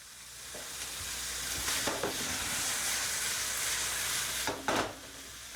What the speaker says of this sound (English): So this is going to be a nice and simple stir fry